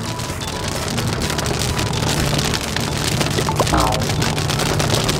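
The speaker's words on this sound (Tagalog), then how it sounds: "sumabay din ang speed ng ulan na kainis. Galit na galit po ang ulan ngayon." Heavy rain pours in a steady, dense, loud roar that lasts throughout, with no break in the downpour.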